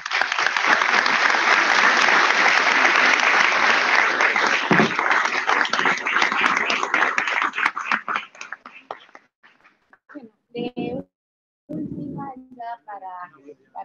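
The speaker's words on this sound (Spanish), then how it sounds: "Este aplauso es para ustedes" An audience of university pre-engineering students bursts into loud, sustained applause that fades after about eight seconds, leaving scattered voices and brief chatter.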